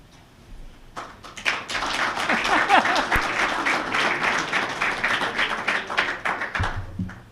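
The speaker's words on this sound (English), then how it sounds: "Somebody felt bad and started the pity applause?" Applause from a press conference audience for the new Maine Black Bears men's basketball head coach, a dense wash of many hands clapping that builds quickly and holds steady for several seconds before thinning out.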